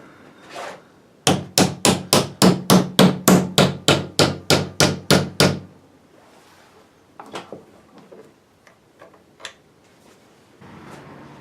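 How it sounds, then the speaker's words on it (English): Sharp, ringing hammer blows on metal bent over in a bench vise while making adjustable fence hardware, about fifteen evenly spaced loud strikes in quick rhythm, followed by quieter scattered taps and handling noise. "Bend her over."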